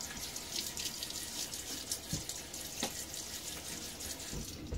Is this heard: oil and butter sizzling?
no